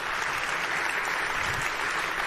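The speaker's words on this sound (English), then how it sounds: "I'd like us to give a nice 10 out of 10 applause to Edwin as he gives us this talk." Conference audience applauding a speaker as a talk begins, steady dense clapping throughout at constant level, close and full, with no speech.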